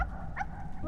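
A golden retriever puppy in the Wandersong video game lets out one short, quick bark over faint background sound.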